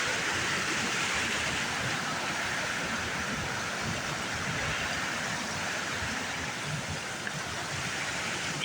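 Steady broadband rush of river water flowing below a dam beside a cliff at a swimming hole, continuous and fairly even throughout with no talk.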